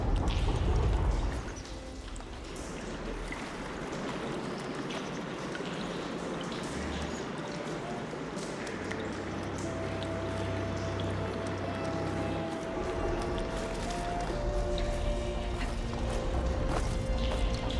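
Rushing water circulating through a valve-controlled channel in Horizon Forbidden West, a steady broadband wash with splashy trickles and occasional low rumbling, filling the scene continuously at close range.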